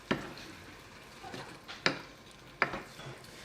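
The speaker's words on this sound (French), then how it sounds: "Donc là, je remue gentiment mon mélange." A spoon stirring rougail saucisse in a pot, with a few sharp metallic knocks against the sides at irregular intervals over a soft background of gentle simmering and scraping.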